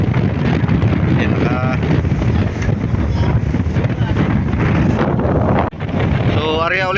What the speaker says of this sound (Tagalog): Ngayon lumakas ang hangin